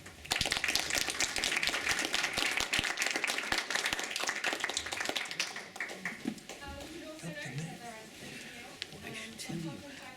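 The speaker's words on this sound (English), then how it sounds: "A round of applause for you and the book signing." Sustained audience applause at a book signing and talk, dense and steady, fading after several seconds into quieter scattered claps and murmuring voices.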